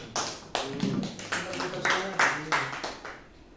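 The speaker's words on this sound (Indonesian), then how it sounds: "Yuk kita tepuk tangan." A small group claps in unison at an Indonesian teacher training session, about eight sharp rhythmic claps with short gaps between them, and faint voices in the room behind.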